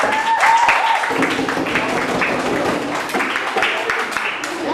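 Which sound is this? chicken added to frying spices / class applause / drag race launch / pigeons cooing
class applause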